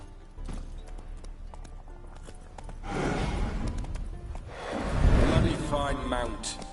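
Horse hooves clip-clop on the ground in The Witcher 3, a steady trotting rhythm under game music and ambience, with a swell of movement and a possible snort or whinny near the end while someone speaks.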